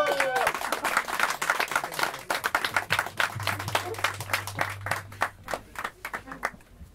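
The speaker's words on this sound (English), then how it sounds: "Give a big round of applause to Anna." An audience at a small evening performance for a flute player gives a round of applause, with dense clapping that thins into scattered claps toward the end. A low speaker hum runs underneath.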